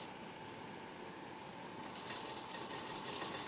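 A sewing machine hums steadily while stitching a baby suit, a faint continuous whirr that barely changes throughout.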